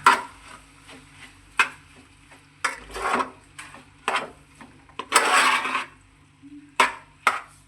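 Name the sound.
mixing cauliflower chili with sauce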